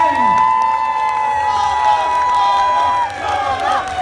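A crowd cheers and shouts at a Comic Con 2017 showmatch, whoops and calls rising over a busy hall with a sustained musical tone running underneath, all loud and close.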